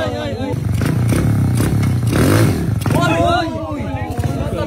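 A Rusi 110 motorcycle engine revs loud and close, rising and holding a strained drone before dropping back, while several people talk over it.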